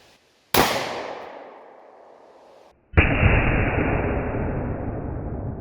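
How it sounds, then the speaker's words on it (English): A Glock 29 10mm pistol fires into dimensional lumber with a loud, sharp outdoor report, preceded by an earlier blast whose echo decays before the shot. "we have the G29 10 millimeter next against the dimensional lumber"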